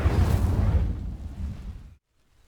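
A fiery blast from the Incendio spell in Hogwarts Legacy, a loud, close whooshing roar that fades out and then cuts off abruptly, followed by near silence.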